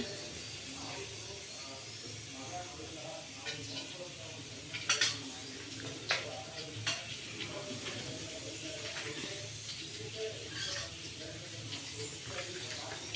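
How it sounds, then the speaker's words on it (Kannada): Cinnamon and cloves sizzle in a pan for egg chicken curry, a soft steady hiss with scattered clinks of a utensil against the pan, a few sharper knocks midway, under a speaking voice. "ನಾನೀಗ ಇದಕ್ಕೆ ಚಕ್ಕೆ ಲವಂಗ ಹಾಕ್ತಾಯಿದ್ದೀನಿ."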